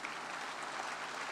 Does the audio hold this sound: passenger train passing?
no